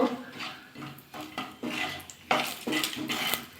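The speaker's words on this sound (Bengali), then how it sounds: "দুই এক মিনিট একটু নাড়াচাড়া করে নেব" Whole spices (cinnamon, cloves and peppercorns) are stirred in hot oil left from frying fish, in a pan, for a Bengali fish rezala, giving repeated close scraping and clinking bursts with brief pauses between strokes.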